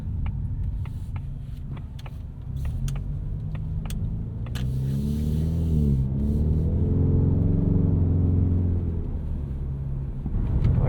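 A 2024 Ford Mustang EcoBoost driving on the road, heard from inside as a low engine drone that swells and falls with throttle, with small knocks and rattles over it.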